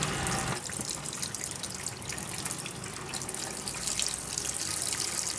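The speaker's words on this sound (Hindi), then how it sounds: "सबसे पहले हम कलेजी को जो है वो अच्छी तरह धो लेंगे ताकि इसके अंदर जितना भी एक्स्ट्रा ब्लड है वो निकल जाए" Running tap water splashes steadily over mutton liver being rinsed in a sink, a continuous gushing flow with small splatters, close and moderately loud throughout, no talking.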